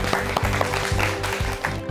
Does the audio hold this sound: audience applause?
yes